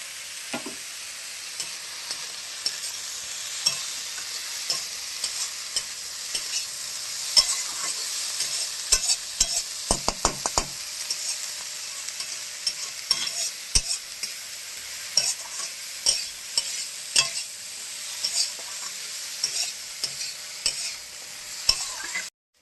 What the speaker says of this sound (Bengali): টমেটো কাঁচা লঙ্কাটা দিয়ে দিই, ভাজা ভাজা ভাজা।